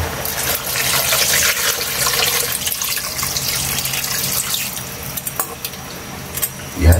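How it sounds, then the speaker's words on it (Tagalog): Water gushing from a tap into a cooking pot for Filipino bulalo beef soup, a steady loud splashing stream that tapers into scattered drips and clinks, with a brief spoken word near the end. "Lagyan na natin ng tubig yung kaili"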